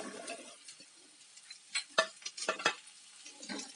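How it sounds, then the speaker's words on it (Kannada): Pumpkin pieces and curry leaves stirred in hot oil, with close scraping spoon strokes and soft sizzling crackle in uneven bursts and no talk. "ಹಾಕೊಂಡು ಚೆನ್ನಾಗಿ ಸ್ವಲ್ಪ 1-2 ನಿಮಿಷ ಎಣ್ಣೆಯಲ್ಲಿ ಮಿಕ್ಸ್ ಮಾಡ್ಕೊಳ್ಳೋಣ"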